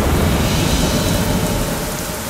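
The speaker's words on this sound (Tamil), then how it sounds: "ஐயோ, மழை வருதே" Heavy rain pours down in a steady loud hiss with a deep rumbling undertone like distant thunder, continuous throughout without any voices.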